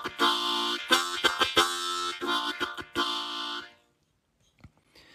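A harmonica plays a rhythmic chugging pattern of short, punchy breathy chords for about four seconds, then stops, leaving near silence.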